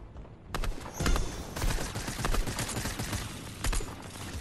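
Gunfire in the video game Fortnite, a near, loud stretch of rapid overlapping shots and crackling bursts lasting a few seconds after a brief quiet start, with no talking.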